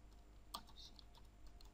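Faint typing on a computer keyboard, a sparse run of light key clicks with one sharper tap early, quiet and close over a low steady hum.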